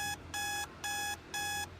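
An alarm clock rings in a steady pattern of shrill electronic beeps, four loud, even bursts separated by brief gaps, close and alone.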